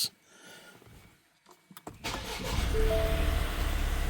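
A 2022 Ford Escape fresh from an oil change: faint clicks and shuffling, then the engine cranks and catches near the two-second mark, settling into a steady, close idle hum.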